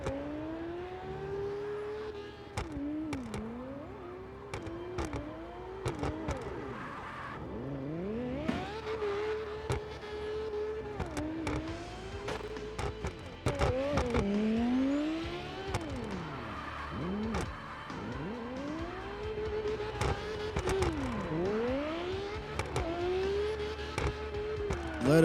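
A mean-looking Lexus LFA race car drives hard at a Red Ring event, its engine revving up and down in repeated sweeps with gear changes, loud and close throughout, with no talk over it.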